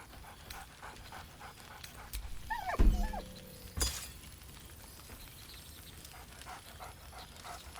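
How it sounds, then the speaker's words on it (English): A dog in the video game Baldur's Gate 3 gives a short, cheerful bark-like yelp amid soft panting and quiet ambience, followed by a single sharp thud. "Scratch barks merrily in something like agreement."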